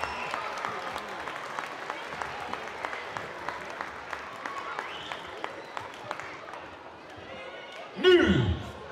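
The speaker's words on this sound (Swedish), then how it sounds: "Linda Jonsson ska ha applåder" A crowd claps for team leaders at a handball club's season-end celebration, with sparse, scattered claps that fade out before a brief loud burst of voices and movement near the end.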